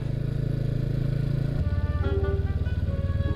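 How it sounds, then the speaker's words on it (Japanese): A motorcycle engine runs steadily while being ridden near the sea, a close, rhythmic throbbing idle-to-cruise note with a slight rise in pace midway, no talk over it. "エンストしない。 エンジンが落ちない。"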